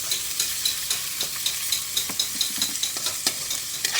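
Garlic and onion sautéing in a pan for a Filipino sotanghon guisado, a steady close sizzle and fry with repeated stirring scrapes in a regular rhythm, no talking.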